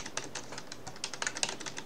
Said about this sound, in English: That's my keyboard and mouse, because I tap.